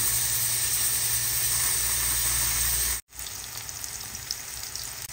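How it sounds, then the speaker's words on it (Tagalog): Garlic, onion and ginger sauté in a pan with a loud, steady hiss and sizzle. The sound cuts out briefly for a moment, then returns just as dense, and no one speaks. "ginigisa po natin ang ating bawang, sibuyas at ang ating luya"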